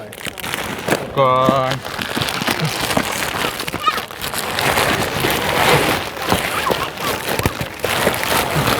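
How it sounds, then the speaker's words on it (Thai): Rain falls in a steady, dense hiss on a trip through rural Thailand toward Bo Kaeo, where villagers shelter and hand out food, with voices talking nearby over the downpour. "ฝนตกตึกแต่มา"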